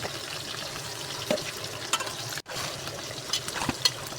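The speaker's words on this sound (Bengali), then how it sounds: "একটু নেড়ে চেড়ে আগে থেকে মাংস ম্যারিনেট করা মাংসগুলো দিয়ে দেব।" Marinated beef sizzles and fries with onions in a pan, a steady crackling hiss broken by occasional stirring scrapes and a brief pause mid-way.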